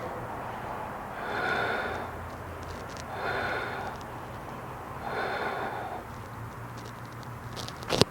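Three slow, loud, audible breaths during a power vinyasa yoga practice, each a long airy swell a couple of seconds apart, close and rhythmic over a quiet room.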